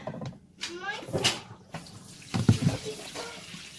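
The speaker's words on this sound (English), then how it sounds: "And it just pours all the water into the bin." A portable washing machine set to drain pours its wash water into a bin, a continuous splashing gush that rises and falls in surges, close by, with a voice speaking over it.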